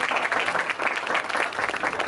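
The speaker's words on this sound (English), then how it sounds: "can I have a big round of applause for Ridhica?" Audience applause at a student Toastmasters meeting, a dense, steady wash of many hands clapping at close range for about two seconds, with no voices rising above it.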